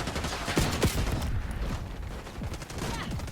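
Rapid gunfire from the video game Call of Duty: Black Ops 6, dense overlapping shots and bursts across a busy multiplayer match, loud and continuous, with faint talk underneath.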